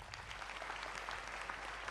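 A crowd applauds steadily, many hands clapping in a dense, even patter that sounds somewhat distant and soft.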